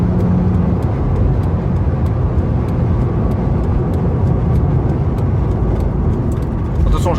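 A 2004 BMW Z4 2.2i cruising on a motorway, with a steady low engine drone and road rumble heard from inside the cabin, plus faint ticking and a brief rising whine near the end.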